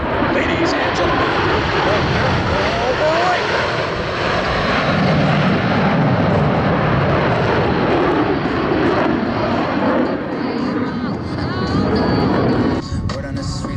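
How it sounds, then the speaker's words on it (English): Blue Angels jets at a Vero Beach air show roar continuously and loudly overhead as they perform individual brake turns, a dense, sustained engine rumble that swells and fades slightly, with an announcer talking over it. "each pilot will perform an individual brake turn and exit the flight line in a separate direction"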